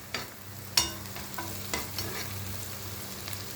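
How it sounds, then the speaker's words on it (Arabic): Onions are sautéed and stirred in a pan for a liver tagine, giving a quiet, steady sizzle with a few sharp scraping and clinking stir sounds standing out. "كده شوحنا البصل شويه"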